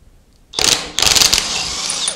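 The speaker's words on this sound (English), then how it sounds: "I've deburred these nuts so that the socket fits and hopefully they will come off without fighting back." A socket wrench undoes nuts on the timing side of a Triumph Trident T160 engine under rebuild, giving two bursts of rapid ratcheting clicks close by after a quiet start, with no talking.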